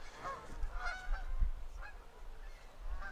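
Canada geese honking in a loose chorus at a lakefront bay, several birds calling over one another at a moderate distance, with steady outdoor background noise.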